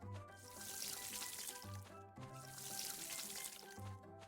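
Water pouring over crops in a farming video game, two steady splashing runs of a gentle stream, faint and repeated, with a soft music tone underneath.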